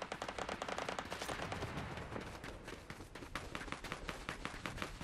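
Rapid gunfire in a first-person shooter squad match, dense overlapping shots and bursts running continuously and fairly loud throughout, with no speech over it.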